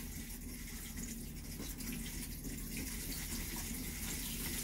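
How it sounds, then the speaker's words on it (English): Cold water runs steadily through RV plumbing during winterizing, a continuous gushing flow from a faucet that stays even and fairly loud throughout with no talking. "we're running cold water back here, so we're a little farther away"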